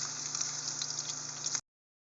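Crushed, sliced ginger sizzles as it browns in a pan, giving a steady bright frying hiss that stops abruptly after about a second and a half, with no one talking.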